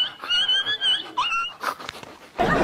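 A dog whimpers in high, wavering whines, then gives a few short yips and a burst of rougher barking at the end, close and fairly loud.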